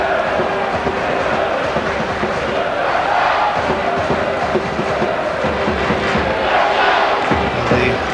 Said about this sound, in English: Rushden Diamonds supporters haven't had too much to cheer about this afternoon, but they have found their voice